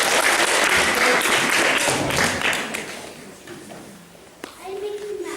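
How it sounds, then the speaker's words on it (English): An audience at a balloon competition claps in a dense burst that fades over a few seconds, with voices and someone speaking among the claps, followed by a thump and quieter chatter. "round of applause please for picking up."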